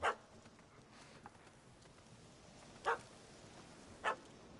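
A dog barks in the Witcher III video game, three sharp separate barks spaced over a few seconds against quiet background ambience.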